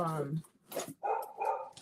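A dog barks indoors during a relaxed yarn-and-tea chat, giving a few short yips between spoken lines, fairly close and moderately loud, with talk before and after.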